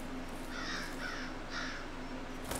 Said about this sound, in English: There's a crow over there.